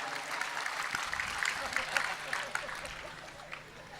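Audience at a Gujarati dayro folk comedy show clapping in a steady, dense patter of applause that runs the full stretch at moderate loudness, with faint voices mixed in.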